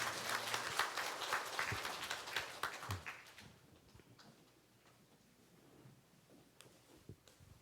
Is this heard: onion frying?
no